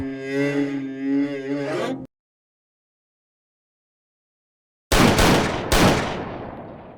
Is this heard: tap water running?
no